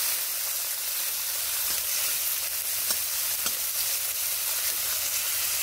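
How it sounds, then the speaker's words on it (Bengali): Chopped tomato sizzles and hisses loudly in a pan, a constant bright frying sound with a few faint scrapes of stirring beneath it, no speech. "টমেটো দেওয়ার পরে কয়েক সেকেন্ড আরও নেড়ে নিচ্ছি।"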